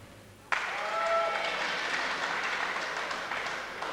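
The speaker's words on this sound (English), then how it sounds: "Dominoes crowd pleased about that one" A crowd of Dominoes supporters bursts into applause at a basketball semi-final, a sudden wash of clapping and cheering that swells, holds for a few seconds and slowly thins.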